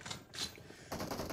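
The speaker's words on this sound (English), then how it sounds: "let me get away from the gunshots." Gunfire in the video game PUBG Mobile bursts out in rapid, loud cracks, first in short spurts and then as a denser volley near the end.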